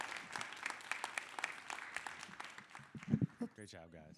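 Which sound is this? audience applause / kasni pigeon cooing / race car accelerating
audience applause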